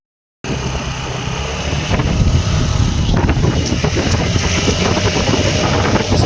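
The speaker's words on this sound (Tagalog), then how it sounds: "Pinatakbo ko na tong motor," Kymco Racing 150 scooter engine running close by after a brief silent start, a steady loud rumbling drone with a noisy, wind-buffeted quality and no talk.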